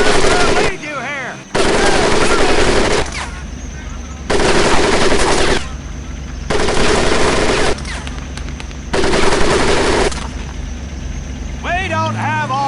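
Machine-gun fire from Medal of Honor: Pacific Assault rips out in several long, loud sustained bursts separated by brief pauses, with a voice shouting orders between them.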